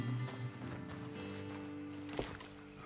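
Horses' hooves clip-clop in Red Dead Redemption 2, a soft steady patter of steps under a low ambient game music bed, moderately distant and fairly quiet.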